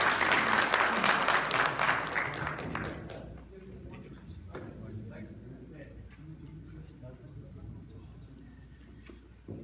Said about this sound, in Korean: 인사 말씀이실 때 큰 박수 부탁드리겠습니다